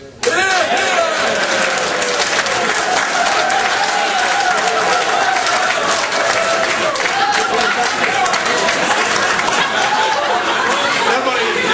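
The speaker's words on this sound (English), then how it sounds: "might just want a little round of applause" Sustained applause from a large crowd at an after-dinner speech, dense and steady clapping throughout with some chatter and laughter mixed in.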